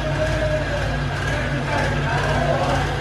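A tractor engine runs with a steady low rumble and broad mechanical noise, heard under people talking close by.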